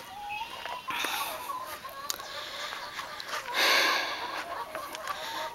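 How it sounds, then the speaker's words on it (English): Backyard chickens, hens about 21 weeks old, cluck and squawk in bursts of varying loudness, with one louder flurry partway through, against light outdoor background noise. "These are our chickens that we've been raising."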